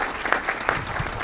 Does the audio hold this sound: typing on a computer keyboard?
no